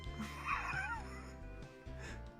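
Barkley the dog from the video game Lunar: Silver Star Story barks and yips in short bursts, several yelps over a looping game music background.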